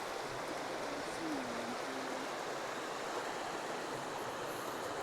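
A woodland river stream flows in a steady, even rush of water, close and continuous throughout with no break.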